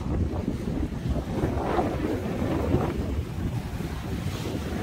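Strong wind gusts across Mulchi harbour where light sand is being blown about, a continuous rushing roar with microphone buffeting and a faint wash of surf underneath, no speech.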